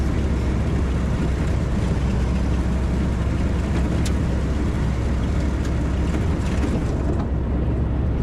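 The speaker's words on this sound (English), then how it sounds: "It's just a little tiny 4-cylinder engine," A Willys Jeep's small four-cylinder engine drones steadily while driving, a constant close rumble with road and wind noise and no voices.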